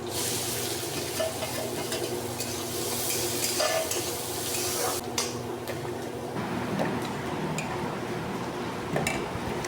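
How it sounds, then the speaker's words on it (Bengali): Garlic and onions fry in a pan with a dense, loud sizzle, while a utensil scrapes and clinks against the metal as the mix is stirred. "আমি পেঁয়াজগুলো দিয়ে ভালো করে লাল লাল করে ভেজে নেবো।"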